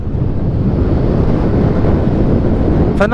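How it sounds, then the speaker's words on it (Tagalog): Strong wind buffeting the microphone while riding a Yamaha NMAX 155 V2 motorcycle fitted with a JVT V3 Powerpipe exhaust, a loud continuous rushing roar, with a brief voice at the very end. "Lakas ng hangin eh."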